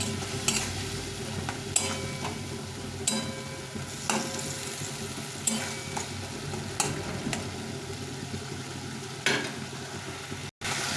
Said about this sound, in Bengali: সবটা কষিয়ে দেবো ভালো করে যতক্ষণ তেল না ছাড়ছে ততক্ষণ কষিয়ে নিতে হবে